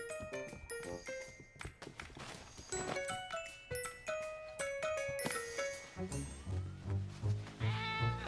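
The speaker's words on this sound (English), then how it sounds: "Silly cat, get out of there!" A cartoon cat meows in a snowy winter scene, a short vocal cry heard over busy jingly background music and sound effects.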